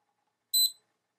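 A single short, high electronic beep from an iRestore laser hair growth device, fairly faint, in an otherwise silent room.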